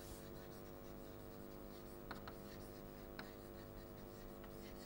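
Handwriting during a lecture on resolution closure, a very faint continuous scratching of pen on a surface with a few tiny taps, heard alone over a steady low hum.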